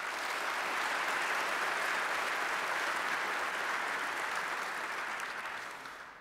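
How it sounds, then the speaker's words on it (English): A crowd at a Sacramento civic gathering applauds city staff, a broad, even wash of clapping from many people that holds steady and then tapers off at the end. "And if you wouldn't mind, just giving our public folks who work a round of applause as well."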